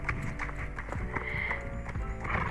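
A large 16-hand mare walks up a hill at a slow, lazy clip-clop, her hoofbeats close and steady, with a faint snort.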